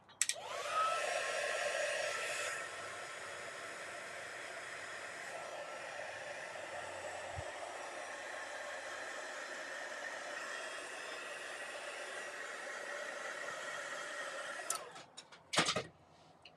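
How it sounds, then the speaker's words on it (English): Heat gun blowing over wet paper on a craft page: a continuous whirring hot-air roar runs steadily for about fifteen seconds, then cuts off with a few clicks and handling noises at the end. "Let's just give it a whack with the heat gun."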